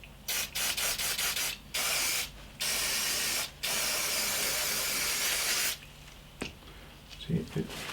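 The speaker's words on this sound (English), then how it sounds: "then just give a good spray" Cleaner sprays in several sharp, loud bursts onto the front brake calipers of a BMW GS motorcycle, a few short hisses followed by longer sustained ones, then quieter dripping and handling noises.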